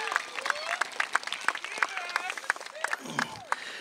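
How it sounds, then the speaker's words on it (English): Audience at a high school graduation ceremony clapping in a round of applause, sharp individual claps scattered through the crowd while whistles and voices rise over it. "Please help me give a round of applause for Miss Joy Eubanks and Mr. Lamar Purefoy."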